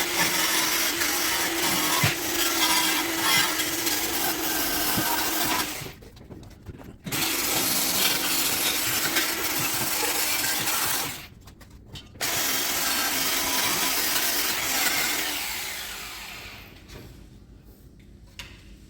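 Surface rust being stripped from the underside of a Vauxhall Corsa B Sport, a loud, steady mechanical grinding and rasping with two brief pauses, then tailing off near the end.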